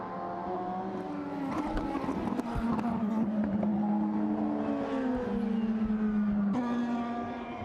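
A £250,000 sports car at Road Atlanta creeps across wet turf in worsening conditions, its engine droning and wavering in pitch as it labours, with no one speaking over it.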